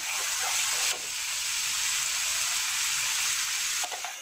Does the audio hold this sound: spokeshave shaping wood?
no